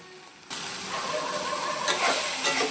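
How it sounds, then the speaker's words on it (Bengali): Shrimp frying in a pan, a steady loud sizzle that jumps in after a brief quiet start and swells brighter toward the end, with no voices over it. "এই দেখুন এটা হালকা হালকা ফ্রাই হয়ে এসছে, আর 1 মিনিট আমি একটু ভেজে নেব।"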